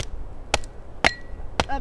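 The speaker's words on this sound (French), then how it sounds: "avec le marteau on la casse un peu" Three sharp, evenly spaced metallic knocks as a hammer drives a hatchet into a thick branch outdoors, loud and close with a brief quiet between strikes.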